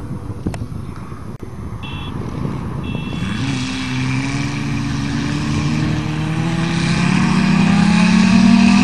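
A Volvo car's engine races in an imported-car ricer race, the engine tone climbing steadily and growing louder over several seconds alongside other revving engines, with no talking.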